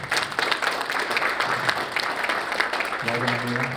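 Audience applause for athletes at a women's college recruiting seminar, a steady wash of clapping throughout, with some voices mixed in and a brief tonal sound near the end.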